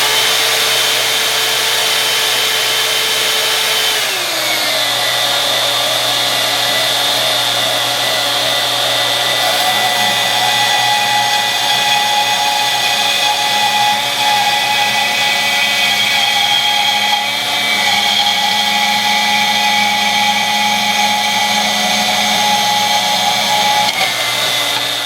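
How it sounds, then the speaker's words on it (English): A portable band saw cuts through the handle of a cast iron skillet, a steady loud whine with a constant pitch that dips once early on and again near the end, running alone without voices for about 25 seconds. "We're going to use a portaband to cut that off with."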